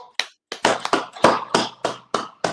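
A handful of sharp, separate hand claps ring out at the end of a class, irregular and close, with no talking over them.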